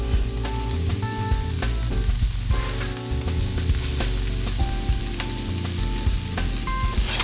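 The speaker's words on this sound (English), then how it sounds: "we're going to add the mushrooms to the onion and garlic mixture" Mushrooms tumble into a hot pan of onion and garlic for beef stroganoff, setting off a loud crackling sizzle with scattered pops and clatters, with music playing underneath.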